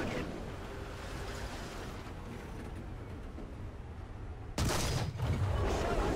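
Gunfire in the vehicle combat game War Thunder, heard as a heavy low blast and rumbling burst of fire that breaks out over a steady engine drone near the end.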